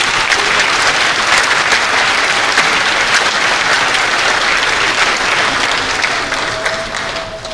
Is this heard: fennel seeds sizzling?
no